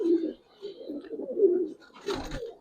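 Giribaz coloring pigeons coo in soft, low, throaty bursts, several rolling calls close by, ending in a brief rustle.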